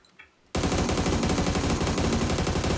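Rapid automatic gunfire from a 7.62 rifle in PUBG erupts abruptly after a brief quiet moment, continuing as a loud, dense, sustained burst of shots.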